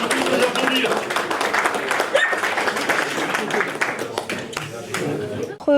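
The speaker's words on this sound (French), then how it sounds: "On peut tous les applaudir." An audience applauds the winners of a week-long carp fishing competition at Lake Salagou, sustained dense clapping alongside a voice speaking over the crowd for the whole stretch.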